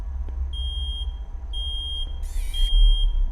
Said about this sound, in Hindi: अलार्म बज रहा है क्या?